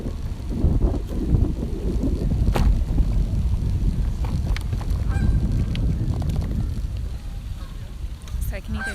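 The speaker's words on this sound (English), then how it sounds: "or this loud goose over here." Loud goose honks sound from nearby outdoors in Oakland, California, repeated calls over wind noise buffeting the microphone, with a person talking at times.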